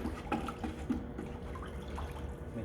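Ceramic glaze swished around a bucket with a stir stick: soft, faint liquid sloshing and dribbling, close and quiet, with no talk.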